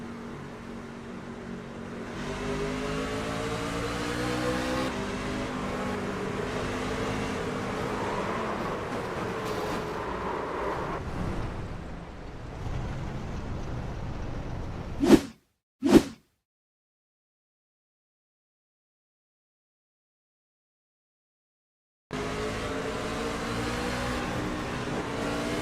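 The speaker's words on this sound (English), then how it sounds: "Just listen to these tires spin underneath of this truck." Racing pickup truck in a truck series race with its tires spinning and finding no traction, a continuous engine drone with wheelspin whine, then brief sharp bursts followed by several seconds of dead silence before the noise returns.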